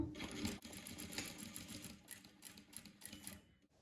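A sewing machine stitches cotton bedding, running in short bursts with a quick backstitch to lock the seam, its rapid mechanical rattle close and steady with brief pauses between runs.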